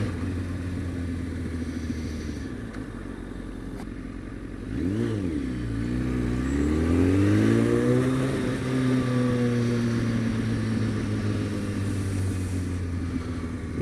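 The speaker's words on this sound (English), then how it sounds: "Nice McLaren." A McLaren sports car accelerates past, its engine note rising and falling in a loud, sweeping pass heard over steady wind and road noise, recorded from a bicycle.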